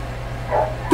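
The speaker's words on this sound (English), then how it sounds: "You can probably hear the doggy outside barking." A dog barks outside, a single short yip at the very end over a steady low hum, faint and distant.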